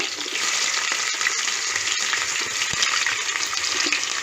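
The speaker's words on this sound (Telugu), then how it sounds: "నూనె కాగింది ఎర్రగడ్డలు వేసుకున్నాను" Sliced onions sizzle in hot oil in a pan, the start of a coconut rice dish. The frying is loud, steady and continuous, with no voices over it.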